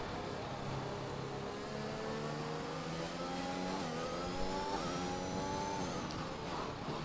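Several F1 race cars from a video game at the Brazilian Grand Prix scream past in a close battle for the lead, their high-revving engines rising and falling in pitch as they shift gears, loud and steady with no talking.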